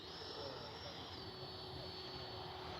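A Freewing 90mm T-45 Goshawk RC electric ducted-fan jet flies past, a steady faint whine with a high tone drifting slightly in pitch, heard from a distance throughout.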